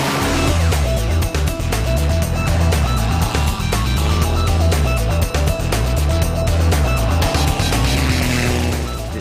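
A vintage racing boat from a collection runs with its engine exhaust roaring. The steady, loud, throbbing drone is close and continuous throughout, with a faint voice barely present.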